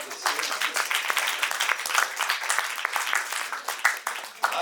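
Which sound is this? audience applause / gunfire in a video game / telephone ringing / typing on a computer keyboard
audience applause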